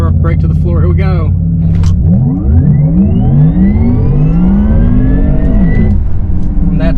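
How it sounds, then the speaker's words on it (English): A 2021 Porsche Taycan 4S electric car launches hard, its motor and synthetic drive sound rising in sweeping, layered whines that climb and fall in pitch, loud and close inside the cabin, with a voice speaking briefly at the start. "We're going to launch the 2021 Taycan 4S."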